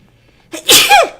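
A single close, loud sneeze bursts out after a moment of near silence, sharp and breathy with a quick trailing tail, during a gaming session.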